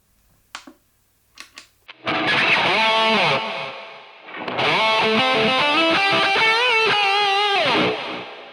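A few sharp guitar plucks, then loud distorted electric guitar chords through an Underdog CHUCK all-in-one rig ring out with repeating delay echoes trailing behind, pausing briefly before a second sustained, echoing passage.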